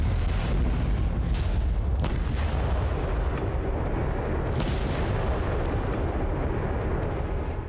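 Rocket fire and explosions from a Hezbollah attack on an Israeli military post, two sharp blasts over a continuous heavy roaring rumble.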